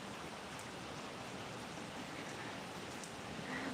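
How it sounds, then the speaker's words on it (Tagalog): Steady rain falling outside a home, a continuous even hiss of drops with no break, fairly close and moderately loud throughout. "umuulan dito sa amin"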